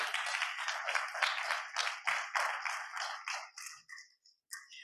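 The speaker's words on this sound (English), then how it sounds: "So I want you to put your hands together, open your ears wide, and clap for Reverend Celeste." Attendees at the INTA 109th Annual World Congress in 2024 applaud Reverend Celeste Frazier, a crisp burst of clapping that thins into scattered, separate claps and fades out near the end.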